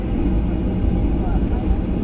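A passenger jet taxis after landing at Tokyo International Airport, heard from inside the cabin as a loud, steady low engine and rolling rumble that fills the whole stretch.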